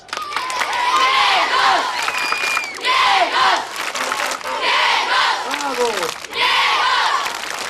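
Fans at a welcome for a quiz show winner cheer and shout in loud, repeated bursts of crowd yelling and chanting, close and energetic, with brief dips between the waves.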